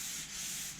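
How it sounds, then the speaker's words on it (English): Abrasive paper rubs steadily across a car body panel during paint preparation, a close, soft, continuous scraping hiss with slight rhythmic swells. "you just keep sanding really until there's no more black"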